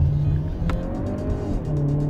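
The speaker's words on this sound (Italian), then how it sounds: "Proviamo un'accelerazione full gas." A DS 7 Crossback E-Tense plug-in hybrid accelerates at full throttle, its engine note climbing steadily and loud from inside the car, with a brief sharp click partway through.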